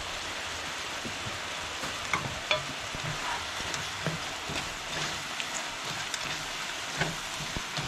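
Bacon frying in a pan during camp cooking, a steady close crackling sizzle with scattered sharp pops and some stirring, no voices.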